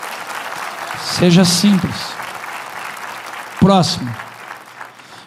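An audience claps steadily throughout, a continuous wash of applause under someone speaking briefly over it twice.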